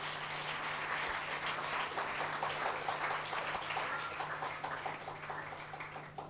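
Church congregation applauding in acclaim of the Lord, a steady, continuous wash of clapping filling the room throughout, moderately loud with no speech over it.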